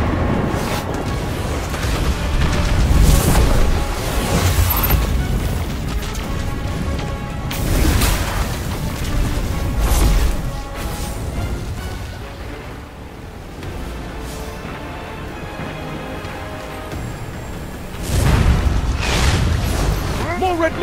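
Missile explosions in the video game Destiny 2 boom repeatedly through a loud, dense battle mix, with heavy blasts near the start, the middle and the end, under game voices and music.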